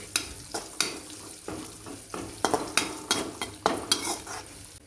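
Chopped onion sizzles and sautés in hot tempering for a Kolhapuri white mutton rassa, with a steady frying hiss broken by repeated sharp stirring scrapes of a spoon against the pan, close and loud with no voices.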